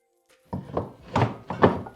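Three or four close wooden knocks and thunks in quick succession as wooden wall-mount tool-holder pieces lock together, after a brief quiet start.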